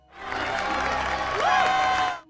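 A crowd at a soldiers' homecoming with flags waving applauds and cheers loudly, dense clapping with raised voices throughout, swelling slightly toward the end before cutting off.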